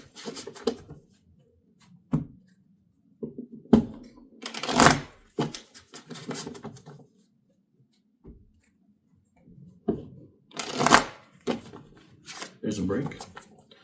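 Tarot cards being shuffled by hand in uneven bursts of riffling and flapping, separated by quiet pauses, with a few soft taps on a table surface.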